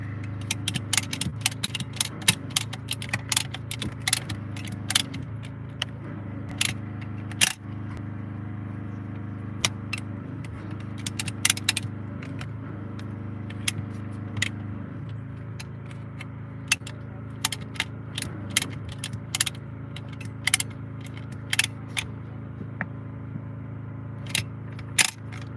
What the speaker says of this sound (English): Let's go ahead and get this clamped down.